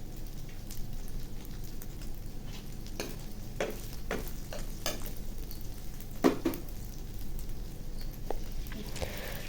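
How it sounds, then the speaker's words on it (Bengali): An egg with a little salt fries in a pan while a spatula repeatedly scrapes and stirs, producing a constant close sizzle punctuated by scraping strokes. "এখন আমি ডিমটা দিয়ে দিলাম, আর ডিমের মধ্যে একটু হালকা লবণ দিয়ে ডিমটা ভেজে নেব।"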